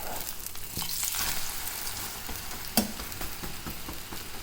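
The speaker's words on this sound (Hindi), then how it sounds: "अंडा करेंगे फ्राई और अब इसको पलटेंगे।" An egg frying in a pan for a sandwich filling, a steady soft sizzle close by, with a single brief clack as it is flipped partway through.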